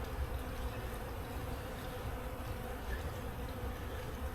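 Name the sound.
honeybees buzzing at a hive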